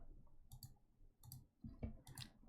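Keyboard typing in short bursts of clicky keystrokes, three or four quick clusters over a couple of seconds, close but faint, with no talk.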